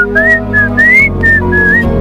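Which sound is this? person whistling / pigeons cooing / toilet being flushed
person whistling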